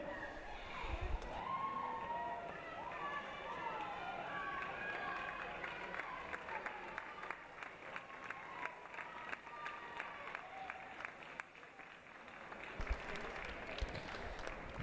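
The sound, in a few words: crowd applauding and cheering swimmers at a swim meet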